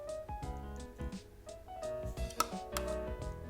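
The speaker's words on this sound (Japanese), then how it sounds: "あとは野菜を食べやすい大きさに切っていきます。" A knife chops vegetables such as carrots and shiitake mushrooms repeatedly on a cutting board in an uneven rhythm, close and fairly quiet, with soft music playing underneath.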